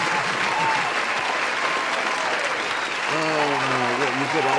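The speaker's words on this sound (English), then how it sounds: "you get all 10 seconds of the applause" Canned applause from a soundboard during a podcast aftershow, a dense burst of clapping that runs steadily, with a voice coming in over it near the end.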